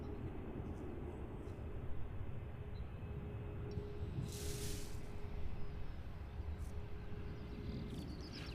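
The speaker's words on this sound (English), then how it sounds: "Like it's beginning a takeoff roll." A Ryanair jet starting its takeoff roll at London Luton Airport, a steady distant engine roar with broad rumble held at an even level throughout, no speech.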